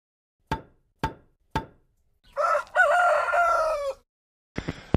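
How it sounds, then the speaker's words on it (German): A rooster crows once in a long, loud call outdoors in a permaculture garden, preceded by three sharp knocks and followed by a few more clicks. "Und jetzt kommt erstmal der Hahn."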